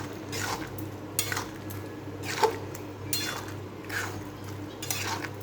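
A spoon scrapes and stirs through egg tadka in a pan just after the spice goes in, with soft repeated strokes against the metal over a low, steady background hum.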